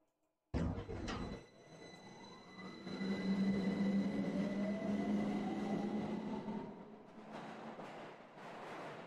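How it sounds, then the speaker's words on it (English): Rumbling ride in a train car in the horror game Lost In Vivo 2, a loud steady rolling drone with rising whine and clattering starts after a sharp opening clank, continuing alone throughout. "we got our own train car"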